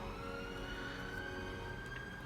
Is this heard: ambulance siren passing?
yes